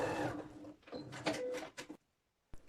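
A sewing machine topstitches a seam on children's overalls in short bursts of rapid needle whirring, stopping and restarting several times, close and moderately quiet, then falling silent before a brief click.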